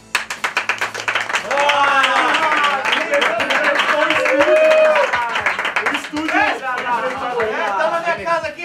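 A group claps in quick bursts as a lively crowd joins in, with excited voices, shouts and laughter over the hand claps throughout.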